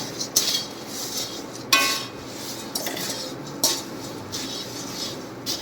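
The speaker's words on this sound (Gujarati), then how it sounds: "ક્રિસ્પી થાય ત્યાં સુધી આવી રીતે આમ સાતળવાનું છે" A spoon scrapes and clinks in a pan of puffed rice being sautéed until crispy, with repeated rustling strokes and a few sharper metallic taps at a steady pace, close by.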